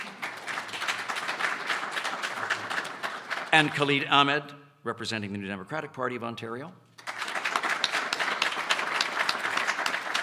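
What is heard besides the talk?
applause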